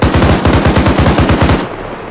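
A machine gun in a military video game hammers out a fast, loud, evenly spaced burst of about a dozen close shots at a BRDM armored vehicle, then stops abruptly, leaving a fading echo.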